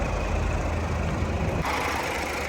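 A Mazda CX-5 engine idling steadily up close under the hood, a constant rumbling hum with an even rhythm, briefly shifting in tone near the end, no voices.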